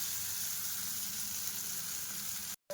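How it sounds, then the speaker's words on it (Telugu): Masala powder fries in a hot pan with a dense, steady sizzle close by that cuts out for a split second near the end. No voices are heard. "మసాలా పౌడర్ వేసిన తర్వాత మళ్ళీ ఒకసారి బాగా కలుపుకోవాలి. ఇది కూడా బాగా ఫ్రై అవ్వాలి."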